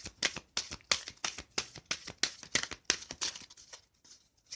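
Oracle cards are shuffled by hand, a rapid run of about a dozen crisp riffling slaps in a steady rhythm, close and fairly quiet, tapering off into a few softer flicks at the end with no talk.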